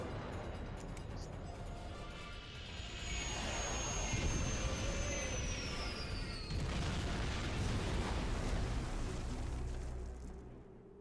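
A starship crash landing in Star Trek Online, a dense roaring rumble that builds into a sustained heavy impact with a descending whine streaking across it, loud and continuous before tailing off.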